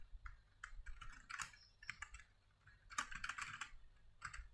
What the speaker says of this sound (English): So just type the name.